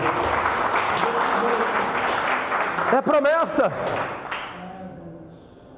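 Church congregation applause rolls loudly for about three seconds, then a preacher's voice cuts in over it as the clapping thins and fades out.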